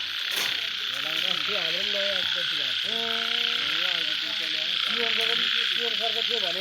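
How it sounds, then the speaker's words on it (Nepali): Frogs at night in Lamatar, a loud chorus of steady insect-like trilling underneath repeated rising and falling croaks, close and continuous, with faint voices in the background. "लामाटारमा भ्यागुताको गीत सुनौँ न हो"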